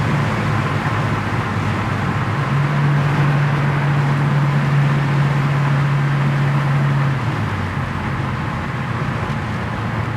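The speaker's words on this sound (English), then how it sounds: "Hear that 4-barrel open up" Engine of a 1972 Plymouth Scamp with a four-barrel carburetor droning steadily from inside the car at about 85 mph, a sustained rising tone holding for several seconds as the carburetor opens up, then settling back.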